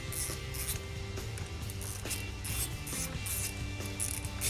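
A ratchet loosens Torx bolts on a Harley-Davidson handlebar lever housing, giving steady, close mechanical clicking and grinding over a constant background hum.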